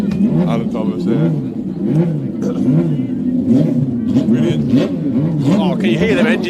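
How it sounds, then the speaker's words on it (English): Loud revving racing sidecar engines roar continuously with rising and falling pitch at the Southern 100 races on the Isle of Man, a voice talking over the noise. "can you hear them engines here? What a noise that is."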